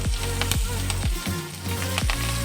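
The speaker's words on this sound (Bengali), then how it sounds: "ওই ভাজা তেলের মধ্যেই আমি দিয়ে দিচ্ছি কারি পাতা" Curry leaves crackling in hot frying oil after other ingredients were fried and the heat lowered, a close, continuous sizzle punctuated by sharp popping bursts every half second or so, with no speech.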